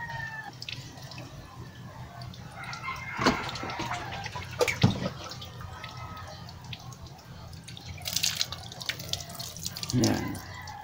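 Tap water runs while the inside of a plastic float valve is washed and sanded clean, a steady close splashing with a few louder bursts and clatters, no talk.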